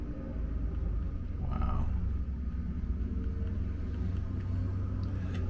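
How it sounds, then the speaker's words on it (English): A nearby garbage truck engine gives a deep steady rumble that dominates throughout, low and heavy with a brief higher whine partway, while a man briefly exclaims over it. "Boy, that garbage truck is loud."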